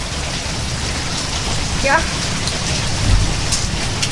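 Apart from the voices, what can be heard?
rain falling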